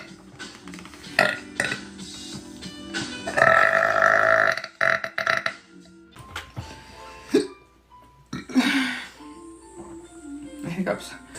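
A woman lets out several loud, drawn-out burps from excessive gas, each one croaky and uneven, with short pauses and some talking in between.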